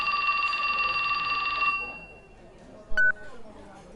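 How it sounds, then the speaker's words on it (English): A telephone rings with a steady electronic warble for a moment and then stops, followed by a brief faint beep. No voices. "His phone rang."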